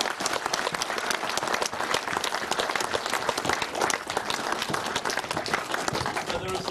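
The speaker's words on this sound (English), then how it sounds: "give anyone a round of applause" An audience at a cast and crew Q&A for the film ZombieHood applauds its director, Steve Best, in a loud, dense, unbroken burst of clapping that lasts the whole stretch.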